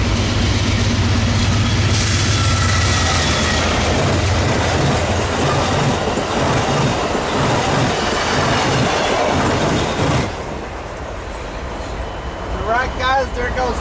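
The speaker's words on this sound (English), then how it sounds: "there goes 572 southbound to San Diego with P42 DC unit, 19 leading, and NPCU unit 90225 trailing at the back" Amtrak passenger train 572 southbound to San Diego, led by P42DC locomotive 19 with a cab car trailing, roars past at Commerce with loud sustained rumble, rail clatter and wheel noise that eases off near the end; no speech.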